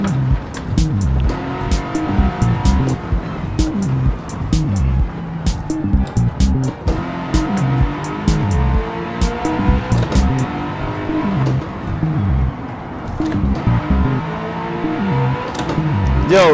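Race cars in Gran Turismo 7 played on a racing wheel and shifter, engines revving up and down with rapid gear-change pitch sweeps, loud and close throughout, with a voice talking over the engines.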